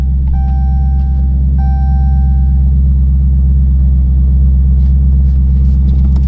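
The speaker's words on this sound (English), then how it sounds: "Now the drone in this car is extremely loud." A deep, steady straight-pipe exhaust drone from a Dodge Scat Pack 392 muscle car rumbles loudly throughout, with a few brief high beeping tones layered over it near the start.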